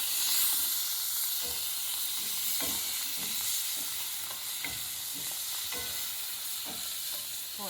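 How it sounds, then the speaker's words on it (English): Spoon stirring a zucchini and summer squash pasta sauce in a frying pan, a steady sizzle and hiss under repeated soft scraping strokes, close and continuous. "we'll give this a stir"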